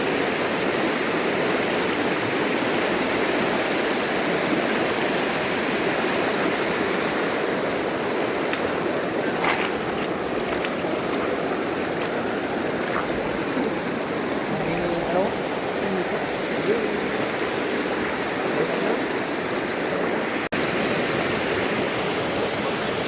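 A strong river at Batong Buaya rushes steadily in a loud, continuous broadband roar, like a waterfall or fast stream, unbroken throughout with faint sporadic voices in the background.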